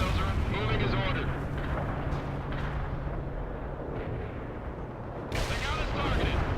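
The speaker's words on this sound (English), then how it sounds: "Main guns primed and shells are moving as ordered." Heavy artillery shelling rumbles through a World in Conflict battle, with dense, continuous booming and low-end blasts that sharpen into a louder burst near the end.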